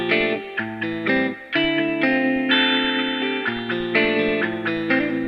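A looped guitar phrase of sustained, chorused chords plays through an RC20 vinyl preset with EQ and reverb, giving a warm, slightly warbling, washed-out tone that repeats steadily.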